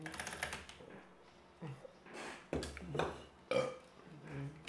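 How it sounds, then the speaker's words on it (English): A series of loud, close burps comes in uneven bursts, each a rough gurgling rasp separated by short quiet gaps. "Burp."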